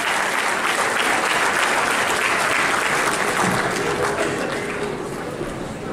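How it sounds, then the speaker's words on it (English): Audience at a university panel discussion on the Union Budget at Presidency University bursts into steady, dense applause from many hands, with a faint voice briefly underneath as the clapping gradually fades. "a big round of applause for our panel"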